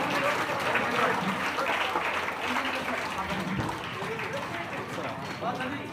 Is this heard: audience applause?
yes